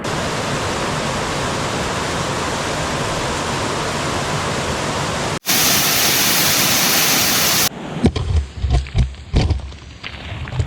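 A waterfall near a hiking trail in high Colorado backcountry gives off a steady, loud broadband rush that fills the scene, then cuts off abruptly and is followed by irregular handling bumps.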